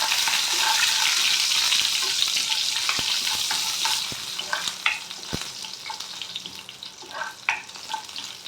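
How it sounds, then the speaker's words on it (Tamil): Mustard seeds, urad dal and chana dal fry in hot oil in a pan, a close crackling sizzle with sharp pops and occasional stirring scrapes that gradually quiets. "கடுகு பொரிஞ்சிச்சு, உளுந்து, கடலைப்பருப்பு இது 2த்தையும் போட்டு நல்லா வதக்கிக்கணும்."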